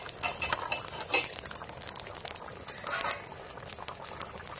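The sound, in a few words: rohu fish curry with cauliflower boiling in a pot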